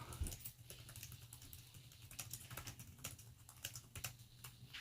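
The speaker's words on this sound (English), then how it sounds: "to test the keys and make sure everything's working, what I'll do is I'll type" Keys clacking as someone types on a Dell XPS 15 9530 laptop keyboard while testing each key after a keyboard replacement, a steady run of close, fairly quiet taps in uneven rhythm over a low hum, with no voices.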